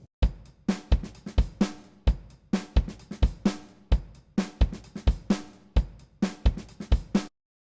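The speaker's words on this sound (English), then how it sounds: "we're going to be processing a little basic drum break that I made" A simple, sparse drum break loops alone, with punchy kicks and snares hitting in a steady, even groove and clean gaps between hits, ending in silence.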